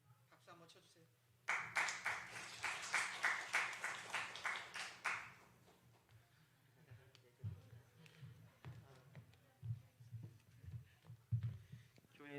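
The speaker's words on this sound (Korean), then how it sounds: "박수 한번 쳐주세요" A church congregation at a Sunday worship service breaks into warm, sustained applause for a departing member, the clapping dense and steady for several seconds before fading as speech resumes.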